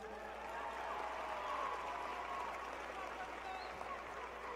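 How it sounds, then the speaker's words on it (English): A crowd at a university commencement ceremony gives the marshals a round of applause, a steady, dense wash of clapping that holds evenly throughout without pause. "Marshals, please give them a round of applause."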